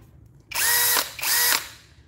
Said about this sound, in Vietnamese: Máy khoan pin của Akuza.